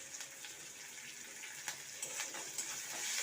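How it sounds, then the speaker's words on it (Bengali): Onion frying lightly in a pan makes a soft, steady sizzle with faint crackles and occasional stirring sounds, quiet and alone. "পেঁয়াজটাকে একটু ভেজে নেবো হালকা করে।"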